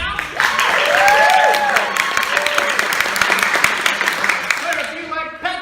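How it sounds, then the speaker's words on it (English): Audience at an improv comedy show applauding and cheering to vote for a team's scene, dense clapping mixed with whoops and shouted voices, loud and sustained before fading into a few scattered claps. "If you like the game that we saw from San Diego Met, let me hear a round of applause right now."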